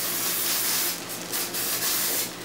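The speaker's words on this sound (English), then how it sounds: "And you give it another spray." Cooking oil is sprayed onto fish fritters in a pan in several short, close hissing bursts.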